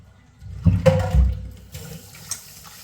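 Water drains off freshly washed food in a kitchen, heard as a few close splashes and dull low thumps of running liquid that fade into a quieter trickle.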